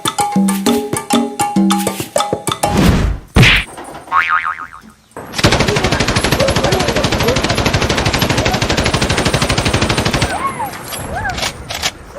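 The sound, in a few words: gunfire sound effect from a gun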